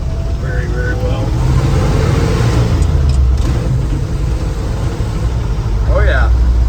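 A 1976 Ford F-150 with a 360 engine and four-speed rumbles steadily down the road, the low engine drone heard from inside the cab under constant road noise, with a voice speaking briefly.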